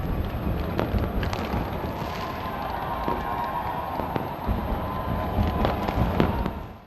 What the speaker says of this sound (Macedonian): Во најголемиот град Оукленд, огнометот го осветли Харбор Бридж.